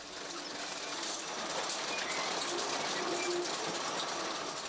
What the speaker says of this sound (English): a high-tech machine which carves its way through the earth